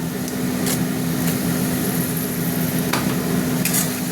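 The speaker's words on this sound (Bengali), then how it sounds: "আবারও নাড়বো, এখনও নাড়া হবে।" Spice paste mixed with yogurt sizzles and fries in a pan as it is stirred, a steady close crackling hiss with a low hum underneath and occasional scraping strokes.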